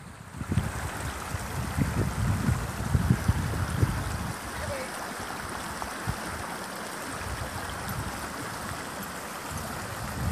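A rushing creek, a small river in full flow, gives a steady broadband roar close by throughout, with some low thumps and splashes early on.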